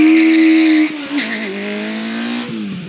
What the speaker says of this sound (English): that allows the Eliminator to launch incredibly